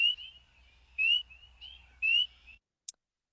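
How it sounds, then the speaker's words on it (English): Tiny spring peeper frogs call in rising, high-pitched peeps at about one-second intervals, with softer trilling between and a faint low hum beneath, then falling silent except for one brief final chirp. "These are our spring peepers."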